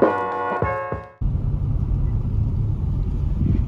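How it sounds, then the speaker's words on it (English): A car driving on the road, a steady close engine and tyre rumble that starts abruptly after a brief sound at the beginning and then continues evenly. "we're going to be driving up to Colombia"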